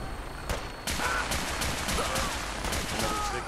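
Rapid bursts of explosive-round gunfire crack in a Fallout 4 firefight, a loud fusillade of overlapping shots that swells after a brief opening volley.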